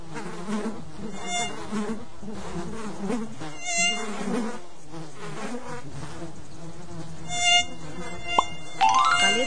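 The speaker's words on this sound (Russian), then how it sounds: "в комнате полно комаров и других насекомых" Mosquitoes and other insects buzz continuously in a Papumba children's game, with high whining drones layered over playful cartoon effects and occasional bright chimes near the end.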